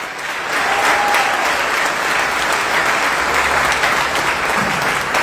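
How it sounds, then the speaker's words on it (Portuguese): A church congregation at an evening family service breaks into loud, sustained applause. The dense clapping rises quickly and holds steady for several seconds with no talk over it. "E dar um forte aplauso ao Senhor."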